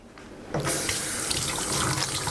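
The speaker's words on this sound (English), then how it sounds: "Wash my hands." A kitchen faucet gushes steadily into a sink as hands are rinsed under the running water, a close, loud hiss that starts abruptly after a quiet moment and continues without talk.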